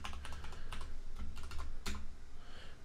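A password being typed on a Mac keyboard, a rapid run of crisp, close key clicks in uneven bursts with a few sharper taps and no voices.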